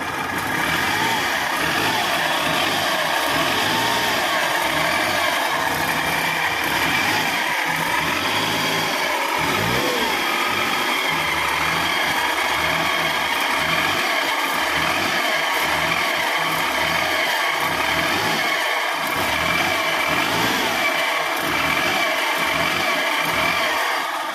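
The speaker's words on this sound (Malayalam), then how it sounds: "ഇനി നമുക്കിതിനെ ഒന്ന് ആക്സിലേറ്റർ കൊടുക്കാം." A Maruti 800 car engine with a faulty alternator runs loudly close by, a continuous mid-pitched drone with a constant whine on top that swells and eases as it is revved.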